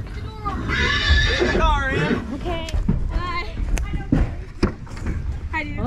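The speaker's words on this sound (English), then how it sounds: "Okay, we have a horse inside our truck." A horse whinnies loudly and repeatedly up close inside a truck, its high wavering neighs overlapping with people talking and a few sharp knocks.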